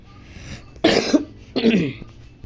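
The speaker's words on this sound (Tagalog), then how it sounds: "At inuubo ako" Two harsh coughs about half a second apart, close and fairly loud, with a quiet background between them.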